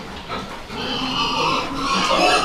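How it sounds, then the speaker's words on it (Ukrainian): Young pigs being raised as breeding sows for sale grunt and squeal in a farm pen, a close, busy chorus of overlapping calls that keeps going throughout. "Оце свинки будуть на свиноматку на продаж."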